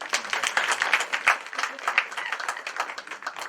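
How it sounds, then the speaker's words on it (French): Applause from an audience at a school event, a dense patter of many hands clapping steadily at moderate loudness for a few seconds, with voices mixed in. "Applaudissez même déjà."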